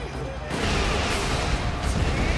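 Guns firing in the video game Samurai Warriors 4 make a dense, continuous roar of blasts and crashing impacts lasting throughout, loud and close.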